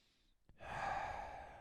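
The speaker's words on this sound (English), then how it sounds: "Remember, we are breathing through the nose." Steady breath drawn through the nose during a yoga vinyasa flow, a brief catch followed by a long, close, continuous airy exhale with no talking.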